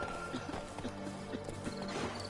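Roach, Geralt's horse in The Witcher 3 on PS5, gallops with a quick, steady clip-clop of hooves. The hoofbeats sit under constant game ambience, and a faint whinny can be heard.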